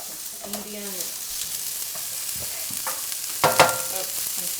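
Onions frying in a pan while being stirred and tossed, a continuous sizzle with scraping utensil sounds and a louder burst of stirring near the end.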